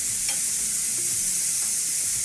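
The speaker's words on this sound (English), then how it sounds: "just so they can start sauteing up to start getting some flavor before I add the jackfruit in there." Vegetables sauté in a hot pan for BBQ jackfruit wraps, with a soft, steady sizzle and faint stirring scrapes throughout.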